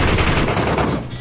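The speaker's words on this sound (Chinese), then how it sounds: "枪声，敌人正在杀 boss，" Enemies unload rapid gunfire while killing a boss in a battle royale shooter game, a dense, continuous burst of automatic shots that stays loud and close for about a second.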